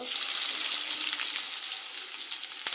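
Nigella seeds and dried chillies sizzle in hot oil for sautéed pumpkin, a loud steady hiss with crackling pops, heard close up and alone.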